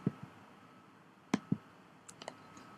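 Computer mouse clicks in a quiet room, a few sharp isolated taps spaced irregularly, with a couple of fainter ticks near the end; no talking.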